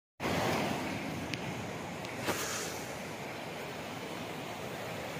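Mountain water rushes over rocks in a waterfall-like cascade near Badrinath, a steady broadband roar that fills the whole clip, with a couple of faint brief clicks over it.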